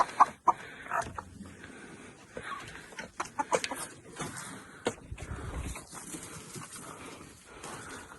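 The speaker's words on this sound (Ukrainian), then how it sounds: "Дві курочки, дивіться, які гарненькі." Two hens cluck softly in a backyard pen beside rabbits, faint scattered calls among quiet rustling and a few sharp knocks, fairly distant and low in level.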